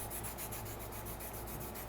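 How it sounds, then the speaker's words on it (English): White chalk drawn against a sanding block to sharpen its tip, a continuous close, soft rasping scrape with a faint regular back-and-forth pulse, heard alone without talk. "I'm going to bring my sanding block in and just make it a habit of keeping the white chalk"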